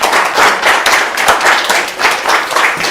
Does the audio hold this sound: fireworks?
no